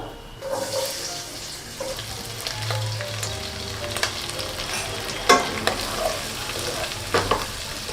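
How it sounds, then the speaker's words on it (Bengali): Onions frying on high flame for chilli chicken, a continuous hiss and sizzle with stirring scrapes and a few sharp clinks of a spatula against the pan. "এবার আমি পেঁয়াজগুলো দিয়ে দেবো, তারপরে ক্যাপসিকামটা দিয়ে এইগুলোকে ভালো করে কিন্তু ফ্রাই করব।"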